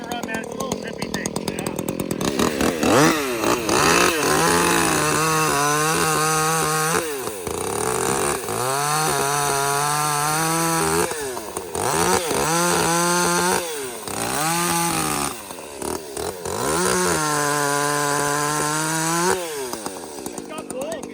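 Husqvarna and Echo chainsaws run close by, revving loudly in repeated bursts that rise and drop between idle stretches, while people talk over the engine noise.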